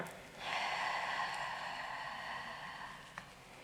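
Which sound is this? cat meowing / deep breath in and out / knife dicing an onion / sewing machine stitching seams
deep breath in and out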